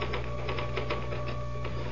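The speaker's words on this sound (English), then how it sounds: "Can I use the typewriter for a moment?" Typing on a typewriter in an old radio mystery drama, a quick run of soft clacking keystrokes over a steady low hum, with no talking.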